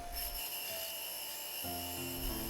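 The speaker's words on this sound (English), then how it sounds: "I clean up the rose with a wire wheel" A wire wheel spins against a welded metal rose, a steady whirring grind with a faint high whine that shifts pitch partway through as pressure on the metal changes, close and fairly quiet.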